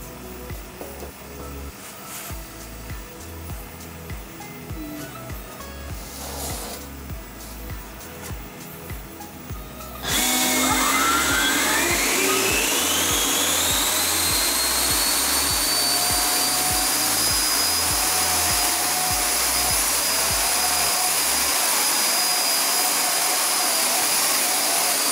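A 3D printed LW-PLA RC Harrier jump jet during a thrust test, its electric ducted fan spooling up suddenly from a low whine into a loud, steady, high-pitched roar that rises slightly in pitch and holds close by.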